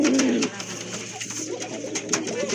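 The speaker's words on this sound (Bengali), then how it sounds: "কুকার ডাক তো শুনতেছে" Kuka pigeons cooing at a pigeon sale, a soft low coo up close at the start followed by quieter murmuring coos amid faint background noise.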